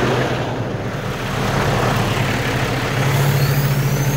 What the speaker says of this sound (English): Cut off my air ride, my airbags.